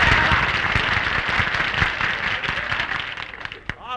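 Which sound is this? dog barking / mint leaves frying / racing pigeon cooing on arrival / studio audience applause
studio audience applause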